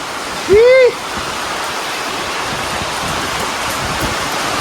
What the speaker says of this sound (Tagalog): Grabe kusuga sa ulan.